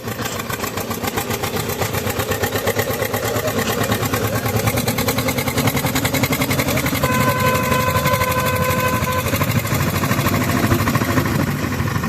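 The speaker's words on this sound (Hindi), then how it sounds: "तो भाई ये ट्रैक्टर लगातार 53 साल से हमारा साथ निभा रहा है" An old Zetor 2011 tractor, 53 years in service, runs steadily with a loud, rhythmic mid-pitched engine chug and mechanical clatter, a whine briefly rising partway through; no talking.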